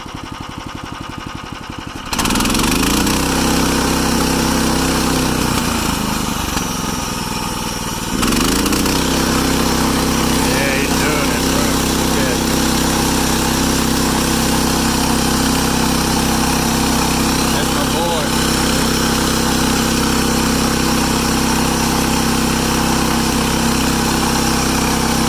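The small engine on a MechMaxx sawmill, fitted with a new carburetor, starts and runs with a steady loud drone, dips briefly, then settles into a smooth continuous idle close by.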